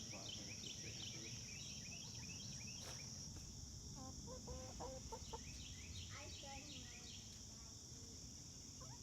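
Chickens cluck in loose, overlapping bursts amid a constant chorus of crickets and insects outdoors, soft and somewhat distant, with a sharper cluck or two standing out.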